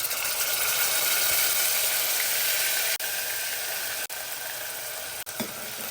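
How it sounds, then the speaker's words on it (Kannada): Onion, ginger and garlic paste fries in hot oil, giving a loud, steady, close sizzle that holds unbroken throughout, with a few faint clicks from the pan. "ಈಗ ಎಣ್ಣೆ ಕಾದಿದೆ. ಇದಕ್ಕೆ ನಾವು ಫಸ್ಟ್ ರುಬ್ಕೊಂಡಿದ್ವಲ್ಲ ಈರುಳ್ಳಿ, ಹಸಿ ಶುಂಠಿ ಮತ್ತು ಬೆಳ್ಳುಳ್ಳಿ ಪೇಸ್ಟ್ನ ಹಾಕೋತೀನಿ"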